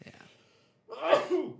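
A single sharp human sneeze, close and abrupt, coming after a brief quiet breath.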